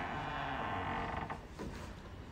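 An aluminium outer wall gate of a villa moves with a heavy, continuous mechanical creak and grinding rumble, close and fairly loud, easing off near the end.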